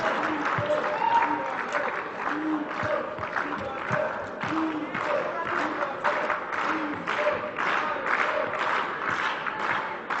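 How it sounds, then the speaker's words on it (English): Tennis crowd in Zagreb in 2012 applauding and cheering at a tense break-point moment, dense clapping and excited voices rising and falling steadily. "Now the crowd are on their feet, now they're excited."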